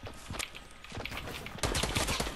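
Gunfire crackles in quick, uneven bursts during a Fortnite Battle Royale duos match, moderately loud and close, growing denser and heavier toward the end.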